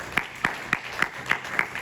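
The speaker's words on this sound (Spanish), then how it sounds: "Denle un fuerte aplauso al Señor en esta noche" At an evening church service, a congregation claps in a steady, evenly spaced rhythm, with about seven distinct claps sounding close and crisp over a quiet background.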